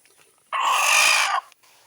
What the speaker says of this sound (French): C'est une belle poule qui va rester à la maison.